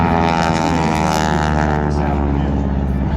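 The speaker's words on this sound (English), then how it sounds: "you're going to notice that very sharp, raspy sound coming from the nose of the airplane" A Boeing Stearman biplane with its original 450 horsepower Pratt & Whitney radial engine drones loudly and close, a sharp, raspy harmonic roar holding steady with a slight shift in pitch.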